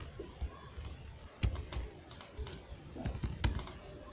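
A computer keyboard clicks in short, uneven bursts while C code is written, with close, distinct keystrokes separated by brief pauses and no voice over them.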